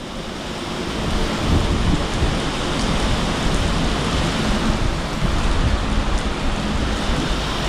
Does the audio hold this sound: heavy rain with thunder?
yes